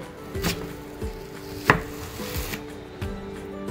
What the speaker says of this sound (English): slice straight down through the middle of the root and